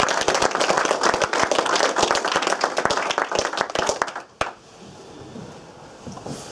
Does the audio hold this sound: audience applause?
yes